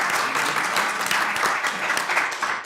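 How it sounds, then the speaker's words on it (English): An audience at a women of color in politics event breaks into steady, dense applause, a continuous wash of many hands clapping at an even level throughout. "yes, you can clap for that"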